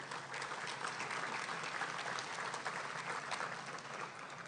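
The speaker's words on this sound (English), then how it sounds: "So I think you should give yourself a round of applause for that." Steady, even applause from a crowd at a chamber of commerce monthly luncheon, heard at moderate distance and holding level throughout with no talk over it.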